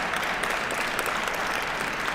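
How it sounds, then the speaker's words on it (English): Steady applause from a crowd at a North American table tennis team championship final, a dense, even wash of clapping that holds throughout without a break. "gives him a well-deserved applause"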